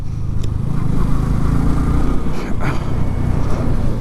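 A Yamaha R15 V3 motorcycle rides a zigzag mountain road toward Gangtok through clouds, its engine a steady low drone with wind rush throughout and no noticeable revving.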